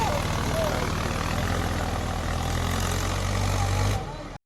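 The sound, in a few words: tractor working in a muddy field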